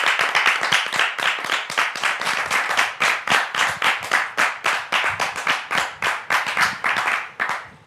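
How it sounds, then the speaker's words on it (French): Rhythmic, fairly close clapping from a studio audience welcoming a guest onto a French talk show, sharp hand claps falling into a steady synchronized beat for several seconds. "Merci de le recevoir donc sous vos applaudissements."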